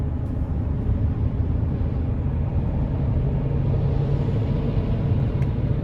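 Heard from inside the cabin, a 2025 Chevy Tahoe High Country engine accelerates with a steady, loud low rumble and road noise that holds constant throughout.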